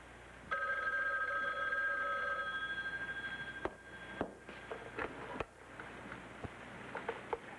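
An old-style telephone bell rings in an indoor room, one clear ring in the first seconds, followed by quieter room sounds and a few sharp knocks or clicks.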